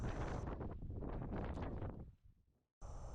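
Violent wind buffets a microphone on a mountain hike, loud gusty roaring that surges and fades, drops to near silence briefly, then rushes back in hard.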